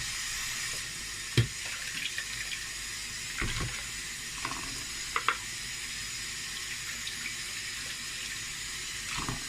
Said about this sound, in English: I'm going to add a little bit of water.